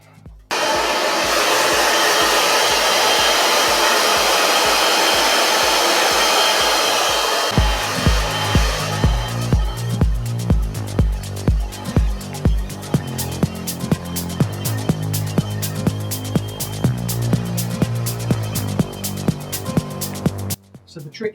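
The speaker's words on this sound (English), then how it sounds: "And then let's get our blow dried." A hair dryer blow drying hair for a big, bouncy 90s-style blow-out, droning loudly and steadily throughout, with a rhythmic pulsing as it's moved through the hair and a person talking over it.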